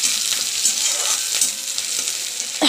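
Tadka ingredients, including chopped onion, sizzle in a hot pan in a loud, close, continuous crackling hiss while being stirred, with a stirring scrape at the very end.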